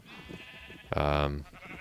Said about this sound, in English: So we got some sheep up here.